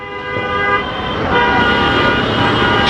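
Car and vehicle horns honking in dense Dhaka street traffic, with overlapping sustained toots over a steady roar of engines and road noise, loud and continuous throughout with no talk.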